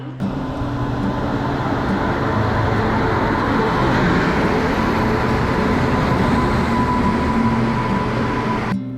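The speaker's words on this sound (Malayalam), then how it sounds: "തൃശ്ശൂർ സ്റ്റേഷനിലത്തെ പ്ലാറ്റ്ഫോം നമ്പർ 2ലേക്കാണ് നമ്മുടെ ട്രെയിൻ എത്തിയിട്ടുള്ളത്." Mysore Express train rumbles steadily into Thrissur railway station at night, a loud continuous roar of wheels and carriages on the platform line, with no voices.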